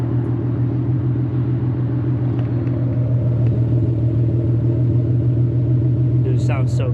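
Modified Nissan Nismo engine idling with a steady, deep rumble close by, a low throbbing drone throughout; a voice breaks in briefly near the end.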